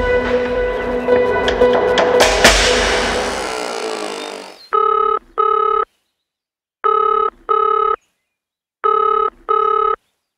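A telephone line carries a ringback tone during an outgoing call, a double ring pulse that repeats three times with short gaps, following a few seconds of louder, jumbled background noise.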